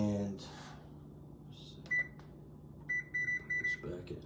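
An oven's electronic control panel gives a single short beep followed by a quick series of four beeps while being set to 375 for baking stuffed bell peppers, close and clear over quiet kitchen sounds and brief talk.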